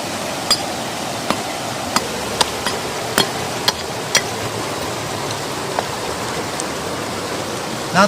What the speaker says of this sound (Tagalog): Umuulan na naman, no?